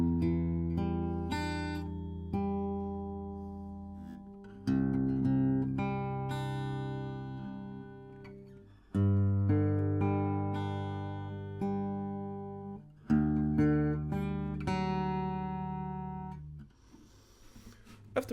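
An acoustic guitar plays the opening section of a song, with plucked arpeggiated chords ringing out in a loud, clear, repeating pattern and no voice.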